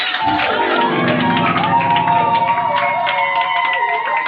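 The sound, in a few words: church congregation cheering and acclaiming God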